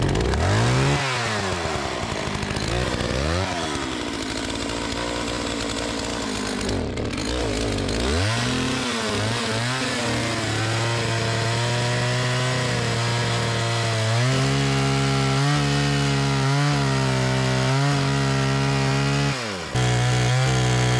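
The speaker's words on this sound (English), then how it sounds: "I just discovered that I missed one piece that I needed to cut with the chainsaw." A chainsaw roars loud and close the whole time as it cuts a leftover piece of firewood on an off-grid homestead in southwest Colorado in early winter. The engine pitch rises and falls with each cut, and the motor revs in steady pulses toward the end.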